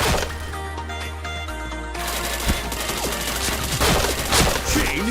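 Rapid bursts of gunfire in a shooter video game, dense crackling shots over a steady backdrop of in-game music and effects.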